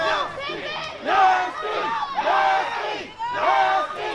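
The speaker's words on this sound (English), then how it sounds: "And this crowd, many of whom are not familiar with Mr. Nasty before" A wrestling crowd at a summer water park show roars and shouts in rising waves, loud and dense throughout, with chants and yells swelling every second or so.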